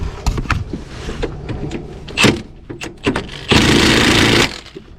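Power tool spinning off 21 mm steering gearbox mounting bolts on a 1999–2007 Chevrolet Silverado, with short whirring bursts, clanks and rattles, then one sustained loud run near the end.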